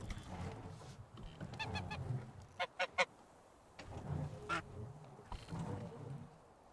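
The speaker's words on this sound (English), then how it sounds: "that was quite loud, the geese" Faint honking calls from a flock of geese in the video game Medieval Dynasty ring out in short repeated bursts, scattered over a soft, murky background.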